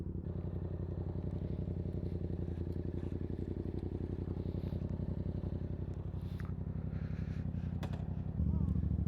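A Yamaha FZ-07 motorcycle ridden two-up with a passenger, its engine holding a steady, throbbing drone close up throughout, with a shift in tone near the end.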